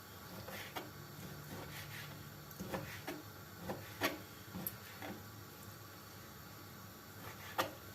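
A knife chops food on a cutting board in a home kitchen, giving a scatter of sharp, irregular taps and knocks at close range over quiet background.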